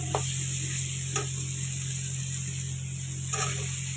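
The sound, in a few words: cauliflower added to hot spiced oil, sizzling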